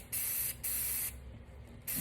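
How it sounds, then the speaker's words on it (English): An aerosol spray paint can held upside down to clear its nozzle gives three short, loud bursts of close, sharp hiss, with quiet gaps between them. "you hold the spray paint upside down and"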